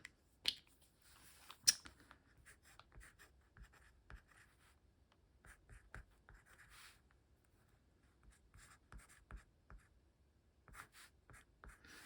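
A pen scratches across paper in short, quiet strokes and pauses, close and faint in a calm room while a date is written in a handmade art journal.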